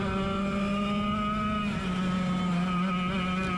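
Racing go-kart engines run fast during a club race, a steady, droning motor whine with a strong tonal buzz that holds at a fairly constant pitch, close and continuous with no talk.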